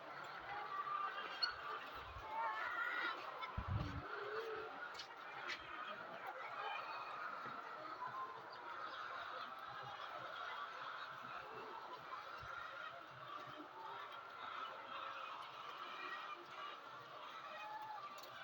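Dense clucking and cackling of many laying hens housed in battery cages on a Pakistani poultry farm, a steady busy din throughout, with someone talking briefly over it.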